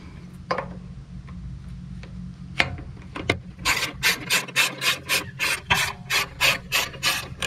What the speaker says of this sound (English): The hole being the perfect size for the socket wrench also helps guide it.